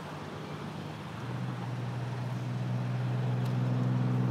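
An electric trike reversing gives off a steady low motor hum and drone that slowly grows a little louder, faint and constant, with no voices.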